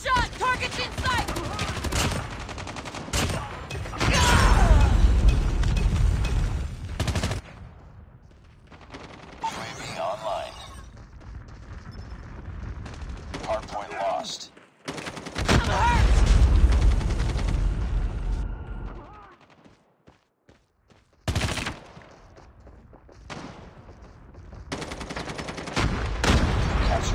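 Gunfire in Call of Duty Mobile during a hardpoint match, with loud sustained bursts of automatic weapon fire and explosions, brief lulls between volleys, and game voice callouts mixed in.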